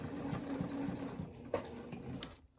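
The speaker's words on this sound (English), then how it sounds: "backstitch" A sewing machine runs quietly as it stitches a backstitch on a tote bag, a soft steady mechanical whir with a faint rhythmic patter and a brief knock near the end.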